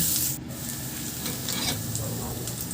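Garlic sautés in oil in a pan, giving a steady close-up sizzle with scraping, stirring strokes throughout and no voices.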